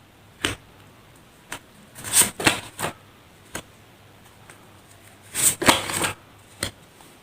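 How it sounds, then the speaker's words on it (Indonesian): Tarot cards are shuffled close by in quick riffling bursts, brisk papery flutters that come in clusters with short pauses and a few single snaps between them. "Langsung saja saya shuffle kartunya."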